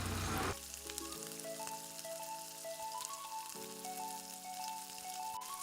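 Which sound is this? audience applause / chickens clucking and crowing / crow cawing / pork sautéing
pork sautéing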